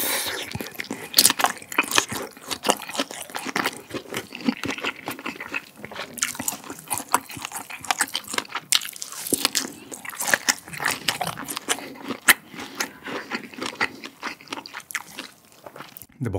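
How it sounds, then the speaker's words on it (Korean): A meaty sausage packed with whole peppercorns is chewed up close, with repeated wet bites, crunches and squishy mastication in an irregular rhythm throughout, and no talking. "고기가 진짜 많이 씹히는데 그 사이에 여기 있는 이 통후추들이 알알이 씹히고요"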